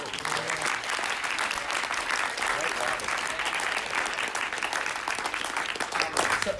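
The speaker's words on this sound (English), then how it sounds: "And can we get an applause for that?" Audience applause at a film Q&A at a horror festival screening, a steady, full burst of many hands clapping throughout, with faint voices in the crowd.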